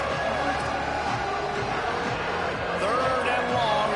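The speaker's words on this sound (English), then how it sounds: "This crowd bringing the energy and noise early." Stadium crowd at a college football game roars in a steady, loud wash of cheering that fills the whole clip, with voices mixed into the noise.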